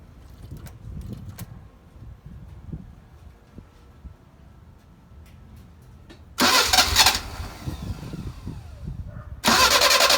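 A Mercedes-Benz 190SL engine, run without its choke and idle set wrong, is cranked quietly for several seconds before it catches and fires loudly twice, with a short pause between the bursts.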